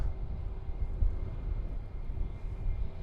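Jet airliners at a DFW Airport runway give a steady low roar of engine noise, continuous and fairly distant, with no talk over it.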